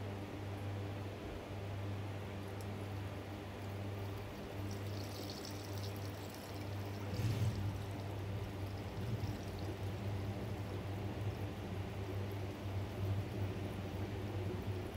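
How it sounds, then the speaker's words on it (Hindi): Coolant mixed with water poured into a car radiator during a home coolant change, giving a steady, continuous liquid stream and gurgle that lasts throughout at moderate level, with no speech. "कूलेंट थोड़ा सा डाला मैंने उसके अंदर पानी डाल के, तो ये रेडिएटर में डाल दूंगा"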